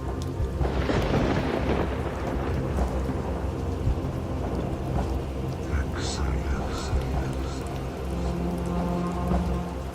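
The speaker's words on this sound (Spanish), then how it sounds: "oímos el retumbar de una tormenta que se estaba desatando alrededor de la montaña" Thunderstorm around a mountain, with a heavy roll of thunder early on, then lighter rumbles over steady rain falling on surfaces throughout; a faint voice murmurs in the background.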